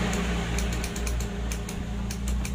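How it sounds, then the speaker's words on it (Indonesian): A motorcycle's electric starter clicks rapidly and repeatedly, a dense, even run of small ticking sounds close by, with no voices. "Ada bunyi cetek-cetek"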